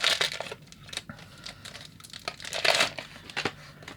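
Plastic bag crinkles and rustles close up as a boxed 1/64 resin model car, a Ferrari F40 police version, is unwrapped, in irregular bursts of crackling handling noise with brief pauses.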